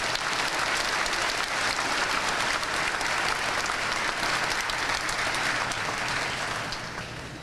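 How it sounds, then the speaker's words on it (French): A church crowd breaks into loud, sustained applause, dense and continuous for several seconds before tapering off slightly at the end, with no talking over it. "Ça mérite que vous applaudissements."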